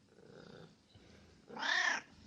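A thirteen-year-old domestic cat purrs softly, then lets out a short, louder meow near the end, close and quiet in an indoor room.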